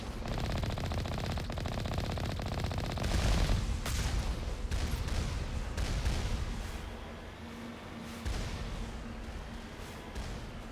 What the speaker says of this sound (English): they're firing at me